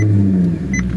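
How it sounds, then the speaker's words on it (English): A Maserati GranTurismo Sport coupe's engine rumbles loud and close, its deep exhaust note throbbing with a brief rev and a faint electronic chirp near the end. "you got to hear this exhaust. Listen to this."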